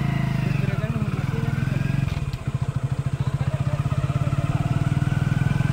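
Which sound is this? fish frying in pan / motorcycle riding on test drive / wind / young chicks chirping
motorcycle riding on test drive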